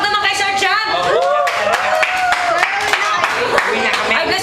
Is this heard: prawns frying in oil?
no